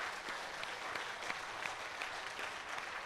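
Steady, dense applause from a lecture audience honouring the organising team, a fairly faint, even patter of many clapping hands lasting throughout with no voices.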